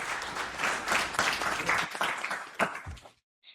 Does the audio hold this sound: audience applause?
yes